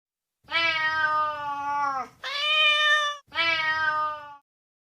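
A cat meows three times in close succession, long drawn-out calls with short pauses between, loud and near.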